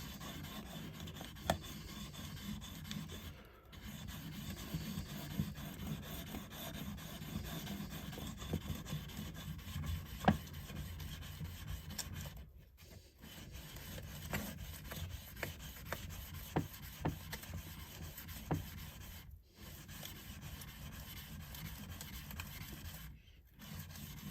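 A Deba knife blade is laid flat and rubbed back and forth on a whetstone, giving a soft, steady rasping scrape that continues throughout with a few brief pauses, close and quiet.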